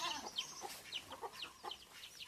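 A hen clucking near a coop with chicks: a rapid series of short, sharp clucks, fairly close and quiet, alone with no talk.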